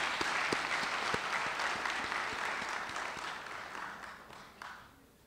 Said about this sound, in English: Let's give her a round of applause anyway.